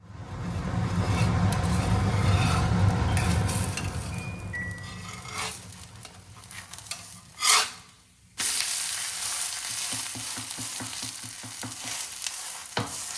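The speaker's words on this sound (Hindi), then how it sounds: "इसको इस तरह से प्रेस करके अच्छे से कुक करेंगे।" Foxtail millet chilla frying in a covered pan on a stovetop, a steady sizzle with a few clinks of the lid and pan, continuous and fairly close.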